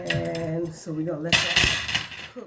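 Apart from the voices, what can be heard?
utensils clinking while gathered beside a hot pot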